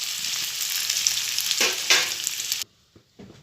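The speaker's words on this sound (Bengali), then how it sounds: "আলুটা লাল করে একটু ভেজে তুলে নেব" Potato pieces fry in bhetki fish oil with a close, bright, crackling sizzle and a couple of stirring bursts, then the sound cuts off abruptly, leaving only faint scattered pops.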